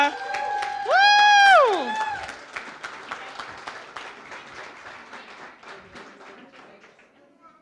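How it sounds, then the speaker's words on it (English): Wedding guests at Orchardview in Ottawa break into cheering and applause for the bride. A loud whooping cheer rises over dense clapping, then settles into scattered, fading claps. "can we get a round of applause for Victoria?"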